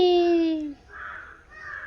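A crow gives one loud, close caw at the start, then fainter rasping sounds follow in a quiet setting.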